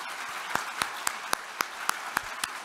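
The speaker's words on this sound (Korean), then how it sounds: "여러분 큰 박수 부탁드립니다" A crowd at a party assembly of newly elected lawmakers applauds with a broad, even wash of clapping, with a few louder individual claps standing out in a regular beat.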